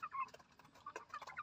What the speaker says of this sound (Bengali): দেখেন মুরগে ডাক দিতেছে, কত সুন্দর ডাক দিল মুরগে